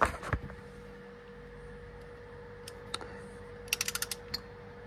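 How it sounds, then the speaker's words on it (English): A torque wrench tightening a bolt during an oil change on a 2024 Honda ADV160 scooter, giving a faint quick run of five or six ratcheting clicks near the end after a few isolated taps, in a quiet workshop without speech. "We're using a torque wrench."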